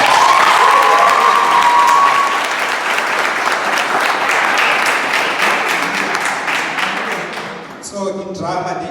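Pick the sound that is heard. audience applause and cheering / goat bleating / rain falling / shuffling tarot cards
audience applause and cheering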